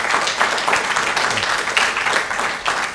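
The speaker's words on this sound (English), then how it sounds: "Let's give them all a round of applause." Audience applause at a university event, steady clapping throughout at moderate loudness.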